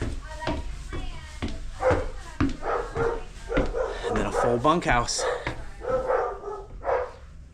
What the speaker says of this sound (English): And puppies, as you can hear.